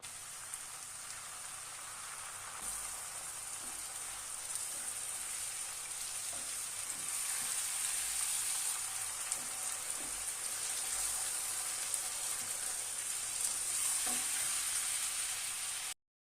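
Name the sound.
chopped tomatoes sizzling in a pot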